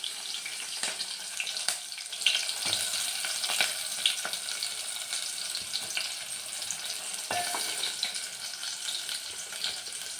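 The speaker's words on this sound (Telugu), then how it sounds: "స్టవ్ ఆన్ చేసి 2 స్పూన్స్ ఆయిల్ వేసుకొని ఆనియన్ వేసుకోవాలి" Onions frying in two spoons of oil on a stove at low heat, a continuous dense sizzle at close range with a few brief clicks of stirring, heard alone without talk.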